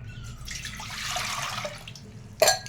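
Ordinary tap water runs into a metal kitchen vessel while dahi vada is being made, a close hissing pour that swells and fades over a couple of seconds, ending in a sharp clink of the pot.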